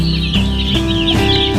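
Young broiler chicks on their second day pecking at feed spread on paper, clucking and cheeping close by in a loud continuous flock chorus with overlapping calls.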